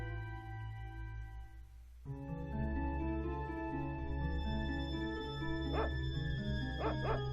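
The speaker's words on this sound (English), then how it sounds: "A dog! Show us, sacred dog." A dog barking in the video game Secret of Evermore over the game's steady music: a few loud yipping barks near the end, close and clear, with no talk.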